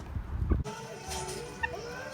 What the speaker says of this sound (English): Mean chicken.